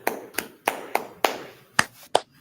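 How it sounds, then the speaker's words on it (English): Scattered claps from a small audience, about eight sharp hits spaced irregularly over a couple of seconds, fairly close and with no talking. "I give these sisters in the UPK, you know what I'm saying, a big round of applause"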